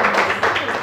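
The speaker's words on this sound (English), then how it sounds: "Clap for him." Classroom clapping for a student who has just answered, a brief patter of hands at moderate level with a murmur of voices underneath.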